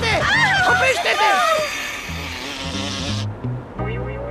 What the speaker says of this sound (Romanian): S-a întors albina!